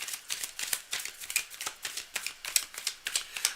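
Tarot cards being shuffled by hand in a quiet room, a rapid run of crisp riffling clicks and flutters, close and continuous for several seconds with no talking.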